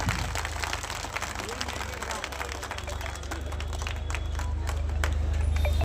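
A crowd at an honour ceremony claps to welcome a guest, with a dense, steady patter of many hands over a low background hum and murmur.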